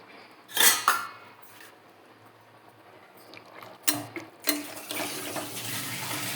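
Tamarind water is poured into yellow pumpkin kootu in a pot, giving liquid splashes and pours mixed with sharp metallic clinks of a vessel and spoon, nearby and fairly distinct against a quiet kitchen.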